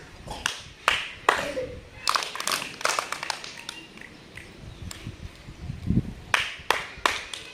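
Sharp hand claps in irregular bursts, some single and some in quick pairs, close by with faint voices between them.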